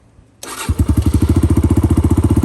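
A Kawasaki KLX140 dirt bike, fitted with a D3 exhaust, starts on choke: a sudden catch, then a loud, rapid, steady single-cylinder putter settling into a fast idle, close by with no talking.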